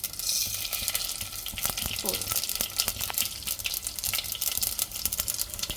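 Crackling sizzle of food frying in a pan, with scattered pops and stirring scrapes, close and continuous.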